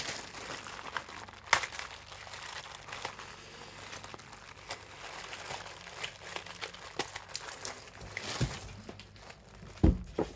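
A plastic mystery bag of diecast cars is crinkled and torn open up close, with uneven bursts of rustling and a few sharper crackles.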